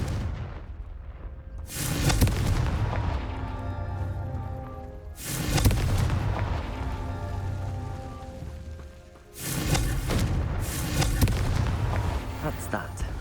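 Repeated fiery blasts of the Confringo spell in Hogwarts Legacy, three heavy booming explosions a few seconds apart, each with a crackling rumbling tail over a low game soundtrack.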